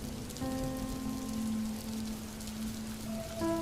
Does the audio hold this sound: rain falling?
yes